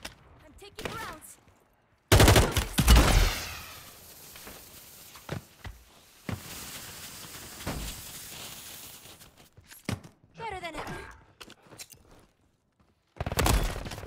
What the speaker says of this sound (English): I'm taking rounds.